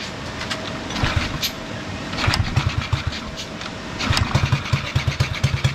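A Toyota Bandeirante engine being started with a hand lever: rough cranking bursts that catch into a loud, close, rhythmic diesel chugging, rising and settling in several pulses.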